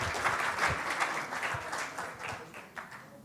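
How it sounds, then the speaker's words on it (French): Audience applause at an entrepreneurship presentation event in Haiti, a short burst of dense clapping from a moderate-sized crowd, fairly soft and steady before tapering off. "Sous vos applaudissements, s'il vous plaît."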